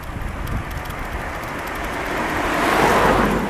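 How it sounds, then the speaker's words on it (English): A car approaches on a road near an outdoor metal-detecting site, a broad rumble that swells steadily louder and peaks near the end as it draws close, with no talk. "car coming."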